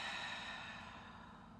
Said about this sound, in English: And a big, full breath out.